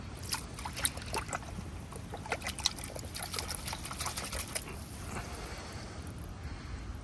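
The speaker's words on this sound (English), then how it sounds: "let's get these roots washed. So you can be quite rough. Give it a good old swish around." Japanese maple roots swished roughly around in a container of water during repotting, soft sloshing and trickling splashes in irregular bursts, faint and close, easing off toward the end.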